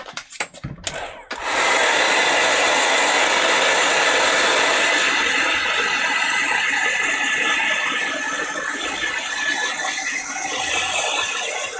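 A hair dryer blows on craft pieces from a magazine box kit, starting after a few clicks and running as a loud, steady whooshing whir close by.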